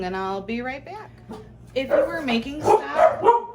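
Dogs bark in a kitchen during vegetable prep, several sharp, loud barks overlapping with and following a person's speech.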